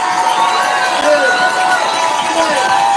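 An audience claps and cheers for a speech by a Democratic spokeswoman, a dense continuous wash of crowd noise at steady loudness, with tonal whistles or voices rising through it.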